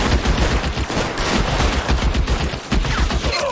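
Dense rapid gunfire from a shootout in the video game LA Noire, sustained automatic bursts filling the whole stretch, loud and close with no talk over it.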